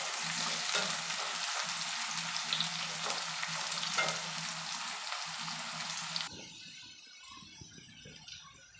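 Strips of bitter gourd fry in hot oil until golden, a steady loud sizzle with a low hum beneath that cuts off sharply near the end, leaving faint quiet kitchen clatter.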